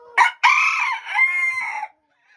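A Bearded Belgian d'Uccle bantam rooster crows nearby, two loud harmonic calls in quick succession, a short one and then a long drawn-out crow, followed by quiet.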